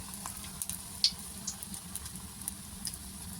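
Jaggery pitha, a sweet date-palm jaggery cake, frying in hot oil: a steady, soft sizzle runs throughout with a few faint clicks and pops, fairly quiet and alone with no voices.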